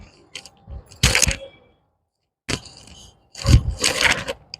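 Scissors cut through table rose plant stems in a garden, producing close, crisp snips and crunchy clipping sounds in two short bursts separated by silence.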